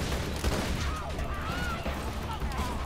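Gunfire from an exploding weapon in Borderlands 2 rattles continuously at moderate loudness, a dense wash of shots and bursts with a voice faint underneath.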